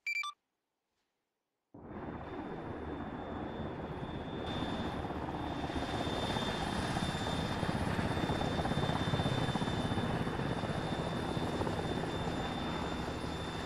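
A video-game helicopter roars steadily after a brief silent gap, its rotor and engine drone building up and holding loud and close for the rest of the stretch, with no talk.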